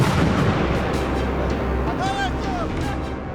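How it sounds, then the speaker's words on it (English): Mortar shells pound a fort building where people are sheltering during a Taliban attack, producing a loud, continuous heavy rumble of blasts with a dense, roaring body. "They pound it with mortar shells."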